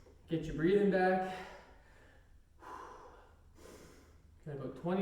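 Heavy, audible breaths and gasps from someone recovering after an interval training round, several loud exhales rising and fading with short pauses between.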